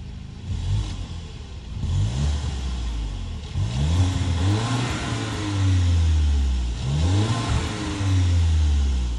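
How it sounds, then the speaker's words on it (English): A 2022 Volkswagen Tiguan's 2-liter turbo four-cylinder engine revs repeatedly, rising and falling in pitch through several throttle blips over a steady idle, close and loud with no talking. "let's rev it up a little bit and let you guys hear how this 2-liter turbo four-cylinder sounds"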